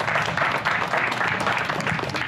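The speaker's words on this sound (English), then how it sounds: "So if we get a round of applause for them." A crowd claps steadily at an outdoor neighborhood celebration of a new protected bike lane in Austin, a dense, even wash of applause filling the whole moment with no pauses.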